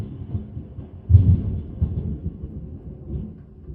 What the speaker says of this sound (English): I think that the lightning struck actually quite near here.